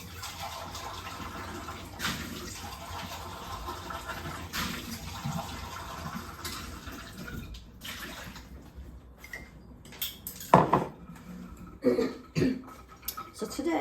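Paintbrush swished and rinsed in a water pot while working on an abstract painting, a soft, near sloshing and dribbling of liquid with a few sharper splashes toward the end and a cough.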